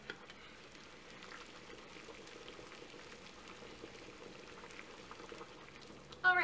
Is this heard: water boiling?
yes